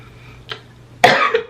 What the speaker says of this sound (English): I'm turning my head as if I'm coughing in y'all face.